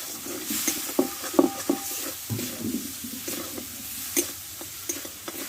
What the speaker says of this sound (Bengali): দেখো মশলাটা ভালোভাবে আমি কষে নিয়েছি